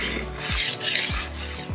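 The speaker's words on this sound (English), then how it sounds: "this is rolling on the butcher block like that" A rolling knife sharpener rolls back and forth on a wooden butcher block, giving three close, rasping strokes in an even rhythm with short gaps between them.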